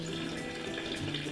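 Water is poured into a homemade Orbeez stress ball mix with oobleck, a steady close trickle of running liquid with a faint hum underneath and no talk.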